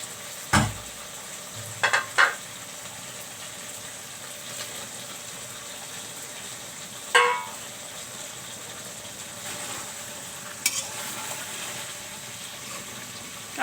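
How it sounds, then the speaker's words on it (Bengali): Fried potatoes and tilapia fish are stirred into spices in hot oil, giving a faint, steady sizzle broken by a few sharp clanks and scrapes of the utensil against the pan. "এখন আমি এখানে তেলে ভাজা আলু ও মাছ তেলাপিয়া দিয়ে দিচ্ছি।"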